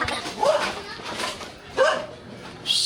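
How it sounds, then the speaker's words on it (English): A dog barks at a visitor on a rural lane in Cebu, with two or three sharp barks spaced over a few seconds, mixed in with nearby casual talk. "The dog gonna bite me."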